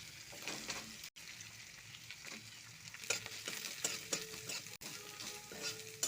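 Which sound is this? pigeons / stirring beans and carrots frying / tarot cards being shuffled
stirring beans and carrots frying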